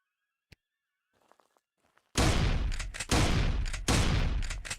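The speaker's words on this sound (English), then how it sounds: "I'm wasting bullets." Loud, close bursts of gunfire from the Animallica game, three heavy volleys after near silence with a few faint clicks.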